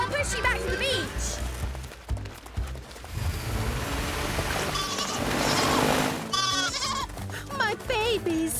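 Goats in a PAW Patrol cartoon bleat in repeated wavering cries while running, mixed with busy scampering and splashing effects, cartoon voices and background music.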